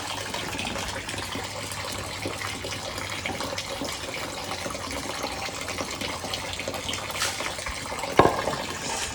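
Water pours steadily from a tap or vessel while flower pots are rinsed, a continuous close splashing gush with a brief sharp clatter near the end.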